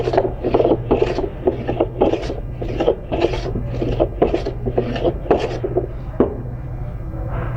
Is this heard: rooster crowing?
no